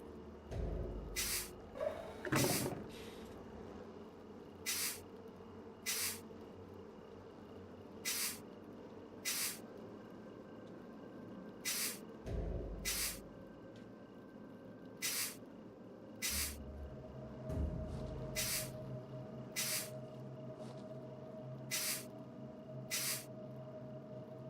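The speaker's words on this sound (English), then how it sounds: "Let me get the sprayer out again." A sprayer in the horror video game Darkness Within 2: Dark Lineage gives repeated short, sharp hissing bursts spaced a few seconds apart over a quiet, low ambient background.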